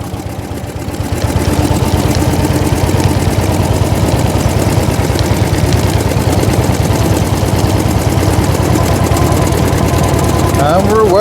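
A 1904 De Dion Bouton veteran car's single engine runs continuously while driving, a loud, rapid, even mechanical chatter holding steady throughout.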